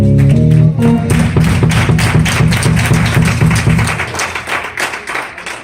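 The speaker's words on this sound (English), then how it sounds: "clap your hands for the Lord" A congregation claps along steadily at a Sunday morning church service, the dense, rhythmic hand claps loud and close over sustained organ or keyboard music that fades out partway through.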